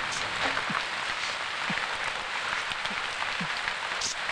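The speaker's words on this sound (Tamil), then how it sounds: "இந்த நேரம் பார்த்து மழை வேற பெருசா பெய்யுது" Heavy rain pours down in a steady, dense hiss that holds at an even loudness for the whole stretch, with no voices over it.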